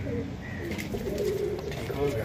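Soft cooing from a breeder pair of pigeons close by, with someone talking over it the whole time.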